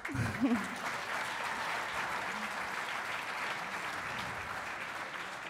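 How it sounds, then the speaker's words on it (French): An audience at a security directors' awards gala claps steadily for an honoree, a full, even wave of applause lasting several seconds, with a brief voice audible at the start. "On peut l'applaudir, je pense."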